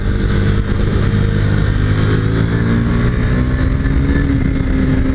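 A 2022 KTM motorcycle under way, its engine droning loud and steady with rising revs as the rider accelerates, wind rush filling the whole stretch with no one speaking.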